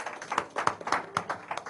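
An audience at a press conference claps for Robert Livingston, CEO of Big Yard Entertainment, with a short burst of sparse, fairly close hand claps in an irregular rhythm.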